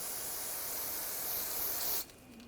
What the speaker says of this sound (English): Use a little brake parts cleaner.